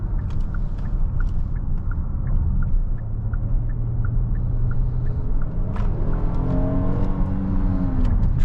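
A 2022 Kia Telluride SX family SUV, 291 horsepower, heard from the cabin as its engine note rises steadily under acceleration, a low smooth rumble with road noise and a soft repeating ticking, no talking.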